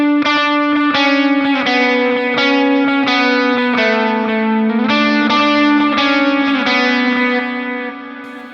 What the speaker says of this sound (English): the second time through go to the bridge pickup. It just makes it sound a little bit different and a little more energy to it.